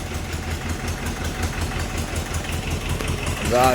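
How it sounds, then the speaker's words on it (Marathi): A fishing boat's engine, freshly started, idles steadily with a low rhythmic throb and chug that grows slightly louder near the end, close by and running without pause. "चला इंजन चालू केलंय. मस्त बाहेर काढतो तो बोट."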